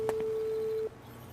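A steady electronic phone tone drones in the game Vampire: The Masquerade – Swansong, holding one flat pitch with a couple of faint clicks before cutting off abruptly, leaving quiet room ambience.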